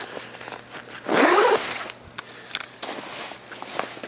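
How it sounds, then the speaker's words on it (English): A quick zip on ice fishing suit bibs gives one short, loud rasping pull, followed by softer rustles and taps of the fabric. "zip these up quick."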